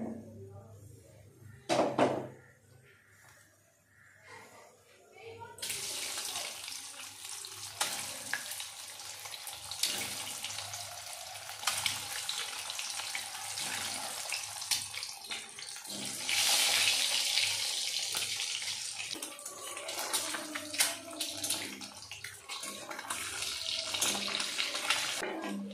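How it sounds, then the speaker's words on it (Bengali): Eggs fried in mustard oil with salt and turmeric for a potato egg curry: after a quiet start with a brief clatter, a dense, continuous sizzle sets in and holds steady, swelling louder partway through. "এখন আমি ডিম কয়টা ভালো করে ভাজা নিব"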